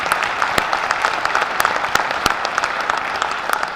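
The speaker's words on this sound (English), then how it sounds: "That's a good time to clap" Audience applause at a college presidential inauguration, a steady patter of many hands with sharp individual claps popping out, filling the hall continuously at moderate distance.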